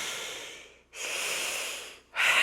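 A person breathes heavily into a headset microphone held close to the mouth, imitating Darth Vader, with long hissing inhales and exhales separated by brief pauses, loud and alone.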